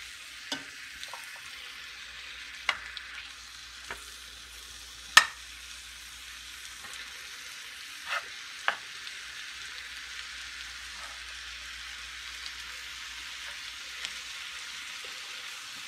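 Hamburger meat browns in a pan with a quiet, steady sizzle, broken by a handful of sharp clicks and scrapes spaced across the stretch, with no voices.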